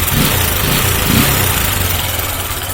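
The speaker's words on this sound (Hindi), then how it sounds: "देखो इसका साउंड कैसा करता है, ठक ठक ठक ठक करता है।" Bajaj Discover 150cc motorcycle engine idling with a knocking problem, a steady close rumble with a faint repeating thud rhythm, no talk.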